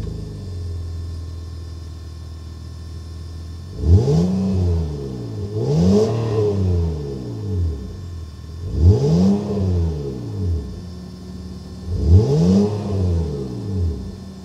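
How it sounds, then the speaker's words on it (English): A 2022 Honda Ridgeline HPD pickup's exhaust gives a throaty note while driving, with four distinct revving swells that rise and fall in pitch over a steady cabin rumble, with no talking. "As you heard from that exhaust note, it definitely gives a throaty sound to it."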